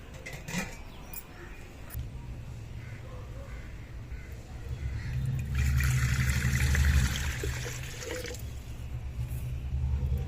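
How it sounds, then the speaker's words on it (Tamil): Water poured into a clay pongal pot heating over a lit stove, a steady filling rush building in the middle and easing toward the end, with crows cawing nearby. "இப்போ தண்ணி ஊற்றிக்கலாம்."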